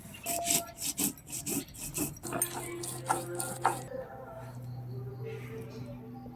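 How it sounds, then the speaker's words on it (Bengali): Poppy seeds being ground by hand on a grinding stone, producing rough rhythmic rubbing and rasping strokes up close, with some kitchen clatter and a low hum. "এইবার কিছুটা পুষ্ট বেটে নেব আমি"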